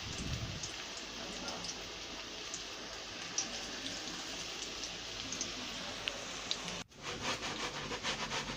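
Potato and onion pakoras fry slowly in hot oil over low heat, giving a steady, dense bubbling sizzle that runs nearly the whole time, with a brief dip near the end.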